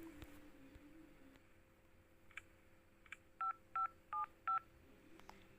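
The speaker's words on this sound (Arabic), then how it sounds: "ما اتصل كده على رنا خلاها تيجي قبل ما ندى تصحى." A telephone number is keyed in on a phone in a quiet home: a few faint clicks, then four short, evenly spaced touch-tone beeps, close and clear over low background hum.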